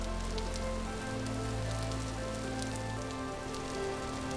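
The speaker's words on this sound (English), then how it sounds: "Still a bit rainy, but oh well, it's fine." Rain falls in the game Vintage Story, a steady soft patter of drops on surfaces over a low ambient hum, constant and moderately quiet.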